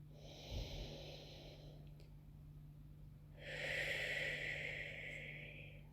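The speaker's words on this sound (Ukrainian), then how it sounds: "Вдих." Slow, deep breaths drawn close to the microphone during a guided meditation: a long airy inhale, a short pause, then a second stronger breath, all over a faint steady hum.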